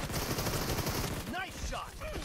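Gunfire in PUBG Mobile's Domination mode, rapid shots crackling steadily throughout under game music and effects, with a voice briefly talking near the end.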